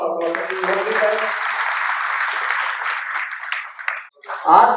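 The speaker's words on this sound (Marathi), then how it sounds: "तर तुमच्या सर्वांसाठी एकदा जोरात टाळ्या वाजवा" Audience applause at the HUM launch event in Chalisgaon, a crowd clapping loudly and steadily for several seconds, with a speaker's voice under it at first and again as it fades.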